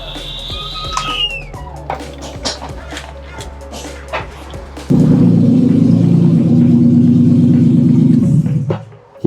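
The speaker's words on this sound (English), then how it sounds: "she's definitely a little bit loud with no exhaust" After some clanking, a BMW E36 engine with no exhaust fitted starts and runs loud and raw, a harsh, steady rumble with a rough idle throb before cutting off.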